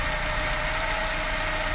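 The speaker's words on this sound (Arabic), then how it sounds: "بص المحرك بيعلى، المكنة صوتها بيعلى، صوتها بيعلى وينتظم" A car engine runs steady and loud, its carburetor air mixture screw being adjusted, giving a continuous even hum and rumble with no talking.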